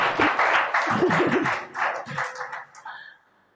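An audience claps at a Tamil public speech. The steady broad applause runs under a voice and fades out toward the end.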